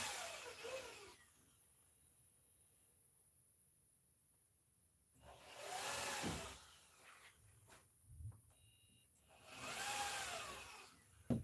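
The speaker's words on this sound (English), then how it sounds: "If the internet goes off, it's because Marcus is stealing all our power with his drill over here." A power drill whirs in two separate bursts of a few seconds each, fairly close, with quiet gaps in between.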